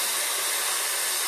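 A hair dryer set to high heat and low speed, styling a hair topper, blows with a steady close airy hiss and whir that runs without a break.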